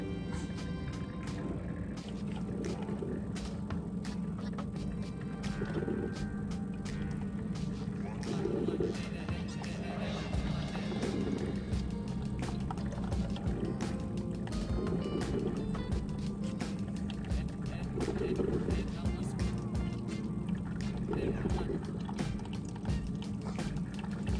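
A Mr. Coffee iced coffee maker runs with a steady mechanical hum and faint trickling liquid, continuous and fairly quiet throughout.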